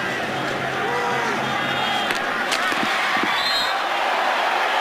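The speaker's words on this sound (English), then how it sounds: "Crowd wanted a penalty." A stadium crowd at an NFL game between the Buccaneers and Saints fills the space with a broad, continuous roar and murmur, rising slightly in spots as it reacts to a play, with faint commentary underneath.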